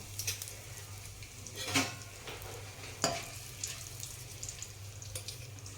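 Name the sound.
bay leaf pieces and asafoetida added to hot oil, sizzling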